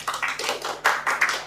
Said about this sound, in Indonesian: Sekretaris MUI, tepuk tangan.